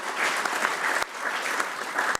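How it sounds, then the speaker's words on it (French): Audience at a conference in the European Parliament in Strasbourg applauding, a loud, close, continuous burst of clapping with a couple of sharp thumps along the way. "On peut vous applaudir quand même."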